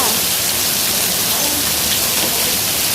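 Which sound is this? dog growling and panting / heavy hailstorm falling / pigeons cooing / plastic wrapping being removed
heavy hailstorm falling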